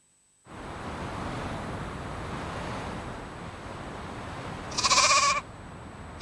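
A single sheep bleats briefly near the end over a steady wash of wind or surf-like noise, the bleat close and fairly loud after several seconds of ambient rushing.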